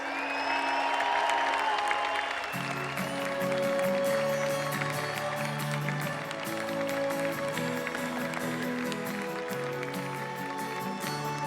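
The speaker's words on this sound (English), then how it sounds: "Huge round of applause." Audience at a summit opening ceremony in Bangkok applauding an advisory board, a sustained wash of clapping with a few cheers and whoops while music plays underneath.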